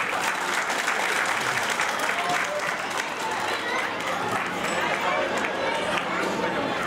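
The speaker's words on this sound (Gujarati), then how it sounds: "આપ જોરદાર તાળીથી બતાવજો" A crowd at a community gathering (Saneh Milan) in Badargadh applauds during an honouring ceremony, producing dense, steady clapping that fills the whole stretch at an even, loud level, with voices mixed faintly into the crowd noise.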